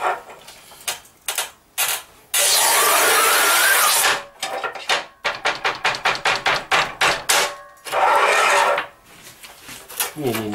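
Raimondi RAIMO 125 S manual tile cutter scoring porcelain stoneware, with loud rasping strokes, a burst of rapid rhythmic scraping passes, and sharp clacks between them, all close and without talk.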